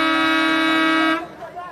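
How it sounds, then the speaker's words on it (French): A car horn blares in one long, loud, steady blast lasting about a second, then cuts off sharply, leaving faint background noise. "Qui klaxonne comme ça?"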